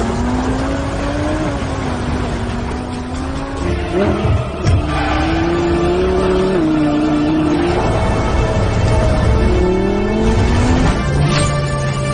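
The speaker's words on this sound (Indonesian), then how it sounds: "terjadilah adegan balapan mobil di atas es" Film scene of a car race on ice from War (2019): engines rev and whine loudly, rising and falling with gear shifts and passes, layered with skids and impacts, continuous and close.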